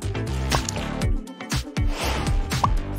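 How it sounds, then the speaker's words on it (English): Glue pours during a Barbie craft, making thick, squishy, dripping and gloopy sounds that come in short wet bursts, close up. "Let's pour in some glue."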